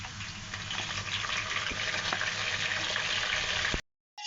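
Marinated goat mince for Bakra Eid keema tipped into a hot pan with whole spices, giving a loud, steady frying sizzle with some stirring scrapes that cuts off abruptly near the end.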